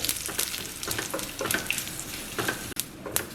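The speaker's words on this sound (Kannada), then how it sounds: "ಒಗ್ಗರಣೆ ಇವಾಗ ಸ್ವಲ್ಪ ಹೊಂಬಣ್ಣ ಬರಬೇಕು" Tempering of dry red chilli, curry leaves and urad dal sizzling and crackling steadily in hot oil for green leaves chutney, close and fairly loud, with no talking.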